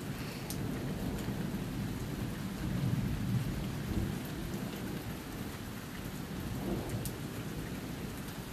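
A late summer thunderstorm in Kenmore, Washington, with steady rain pattering on surfaces and deep thunder rumbling throughout, loud and continuous with no break.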